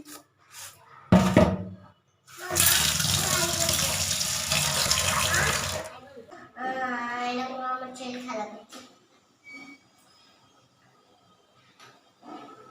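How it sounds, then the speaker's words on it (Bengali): Tap water runs in a loud, steady gush for about three seconds while peas for matar dal are rinsed in a home kitchen, with a child and an adult talking before and after. "এবার আমি দেখো মটর আমি ধুয়ে দিচ্ছি"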